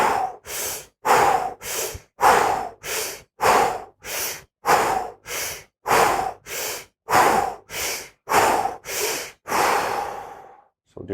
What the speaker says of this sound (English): we start with stage 1, which is the breathing.